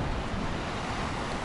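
Cold wind gusting at the seaside in Adler, Sochi, a steady broadband roar of wind and surf buffeting close to the microphone, with no voices.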